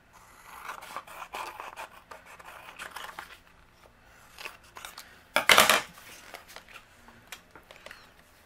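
Scissors trim excess cardstock off a handmade card base, giving soft scrapes and snips, followed by one sharp, louder cutting burst in the latter half, with quieter paper handling around it.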